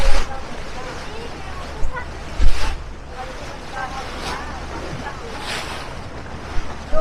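Sea waves and wind buffet a small boat on the open Red Sea off Saudi Arabia, a steady broadband wash with gusts of wind noise on the microphone and a few louder surges, with people talking faintly underneath.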